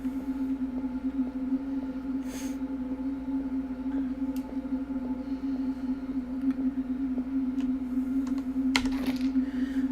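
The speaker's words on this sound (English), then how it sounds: "I am still typing." Typing on a computer keyboard: soft, steady key taps spread across the stretch, set against a constant loud hum and background noise.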